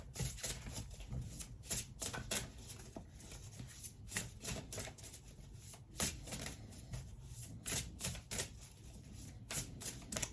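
A Cosmic Journey oracle card deck shuffled close up, a rapid run of crisp papery riffles and flutters repeating in bursts, quiet overall and with no voice.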